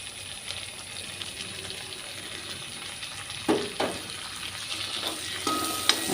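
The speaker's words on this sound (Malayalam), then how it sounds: "ഒന്ന് വഴറ്റി കൊടുക്കാം." Stone-crushed garlic sautés in a pan with a constant close sizzle, broken by a few sharp utensil taps and stirring clinks toward the end.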